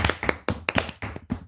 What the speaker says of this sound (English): Why are you slow clapping?